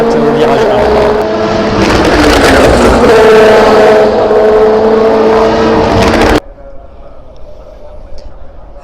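Prototype race cars at the Barcelona circuit roar by loud and close, a sustained engine howl with shifting pitch that cuts off abruptly, leaving faint distant track noise.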